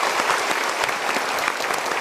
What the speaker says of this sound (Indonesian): Tadi kita berikan tepuk tangan dulu.